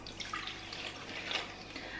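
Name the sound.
filling wipes box with tap water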